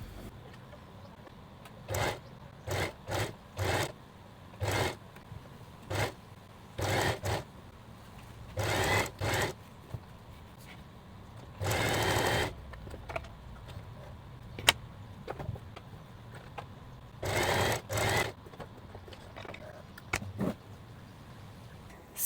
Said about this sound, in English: then we can sew the center front